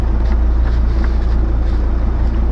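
Strong outdoor wind blasts straight into the microphone beside a 2006 Dodge Sprinter 2500 with a 2.7L turbo engine, making a loud, low, continuous buffeting rumble with no talking.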